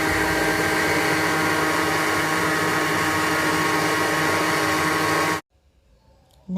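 A kitchen blender grinds mango, badam, sugar, cold milk, water and ice cubes into a shake, running as a loud, steady whirring roar for about five seconds before cutting off abruptly.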